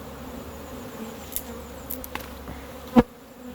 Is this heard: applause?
no